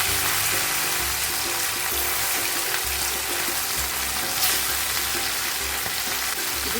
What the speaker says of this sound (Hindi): अभी एक एक करके फिश हम छोड़ देते हैं। तेल हमारा एकदम मस्त गर्म